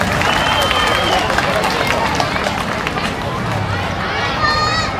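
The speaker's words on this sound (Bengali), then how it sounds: "ধন্যবাদ সকলে হাতে তালি" Audience applause at a school's annual sports competition prize-giving: a steady wash of clapping that fills the whole stretch, mixed with crowd murmur and voices from a busy outdoor gathering.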